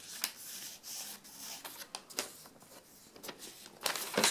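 Crisp, light origami paper handled up close, with soft rustles and crinkles followed by a few sharper crackles, quiet and alone.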